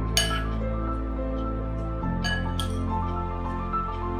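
A utensil clinks against a bowl while a microgreens salad is mixed, two or three sharp metallic taps over a steady background hum, close and fairly quiet.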